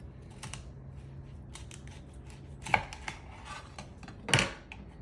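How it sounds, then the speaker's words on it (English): A knife chops broccoli on a cutting board, a few sharp close knocks spaced out over a quiet background, with two louder strikes standing out. "I have some broccoli I'm going to cut up"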